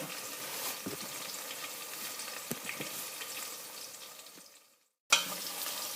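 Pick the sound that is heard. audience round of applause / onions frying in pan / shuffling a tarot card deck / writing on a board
onions frying in pan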